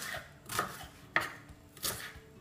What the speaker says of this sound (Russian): Мы берем луковицу небольшого размера, как я уже говорил, и нарезаем как на обычную зажарку.